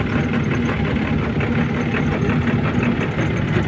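A YuMZ 8280 tractor engine driving through a field, a steady close diesel drone with a faint knocking texture, loud and continuous with no talk.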